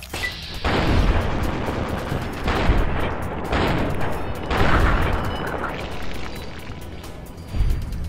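Gunshots in Fallout: New Vegas, heard as a series of heavy, booming reports spaced a second or two apart, each with a rolling tail, loud and close with no talking.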